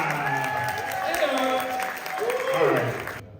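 A concert audience claps and cheers for a few seconds, the applause swelling toward the end while a voice talks over it through the sound system.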